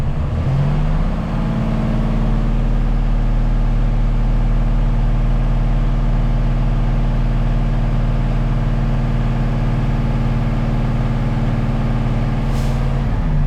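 A truck engine runs steadily at a loud, constant drone while the air brakes are fanned down and pressure is built back up. Near the end comes a faint brief hiss, the air dryer sneezing at governor cutout. No voices.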